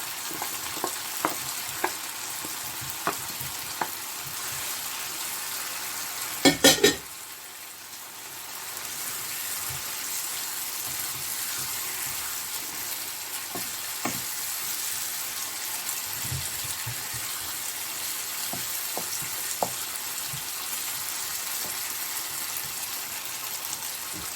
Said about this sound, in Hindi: डाल के ऊपर हम अपने ऑनियन डाल देंगे इसके लिए।